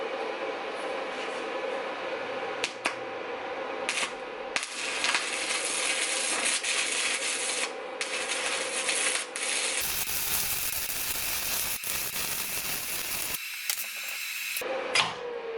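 Electric arc welder running at roughly 80 amps, a steady close crackling hiss that holds for most of the stretch, with brief breaks and shifts in tone as the arc stops and restarts.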